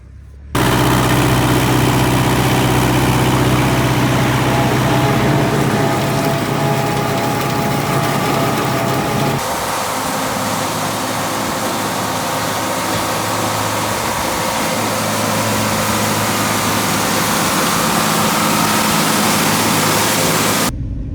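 A farm tractor's engine idles steadily nearby, loud and continuous for the whole stretch, with a slight shift in its tone partway through and no talking over it.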